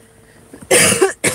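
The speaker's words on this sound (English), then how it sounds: "I can't stop coughing." Several harsh, loud coughs burst out close by after a brief quiet lead-in, one after another, with a short gap before a final cough.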